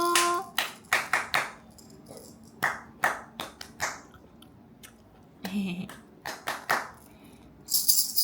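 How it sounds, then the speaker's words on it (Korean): Short bursts of a baby's hand claps, light and close, coming in irregular clusters separated by quiet gaps, with a faint soft voice in places. "짝짝짝 박수도 쳐보고"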